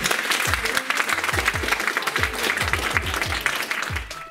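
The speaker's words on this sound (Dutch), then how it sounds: "Mag ik een laatste applaus voor Rolf?" An audience claps steadily throughout, with a dense, even texture of hands and no clear pauses.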